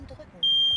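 A Nest Protect smoke alarm sounds a sudden, loud, piercing steady tone that starts midway and holds, following a quiet room with faint background murmur.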